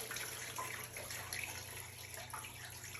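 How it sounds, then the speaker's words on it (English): Water pours steadily into the bottom of a roasting pan being readied for a weekend turkey, a continuous close splashing rush with no talk over it. "Then I'm going to add water to the bottom part of the pan."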